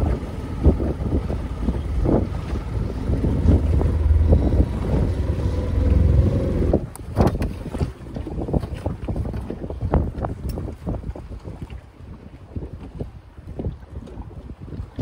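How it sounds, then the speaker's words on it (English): A boat engine rumbles loudly with wind buffeting the microphone, then drops to a lower idle with water sloshing and clunking against the hull. "Boat's running, it's in the water."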